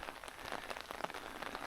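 Rain falls steadily during a rainy day hike near dry creeks, a faint, even patter of drops on the ground and foliage with no voices.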